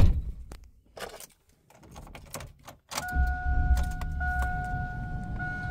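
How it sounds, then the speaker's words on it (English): A 2002 GMC Sierra SLE pickup engine cranks briefly and fires up, then settles into a steady idle with a chime tone, after some earlier handling and clicking sounds inside the cab. "Starts right up."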